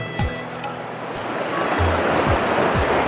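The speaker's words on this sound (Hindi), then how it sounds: "अब हम धो रहे हैं सब्जियां।" Vegetables rinsed in fresh river water at a riverside picnic, a steady rushing water wash with splashing close by, accompanied by occasional low thumps and brief voices in the background.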